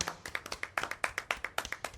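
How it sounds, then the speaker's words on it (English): Handclaps ring out in a quick, fairly regular rhythm, each sharp clap distinct and close, from a few people clapping together in a room. "Let's all clap at Chris, huh?"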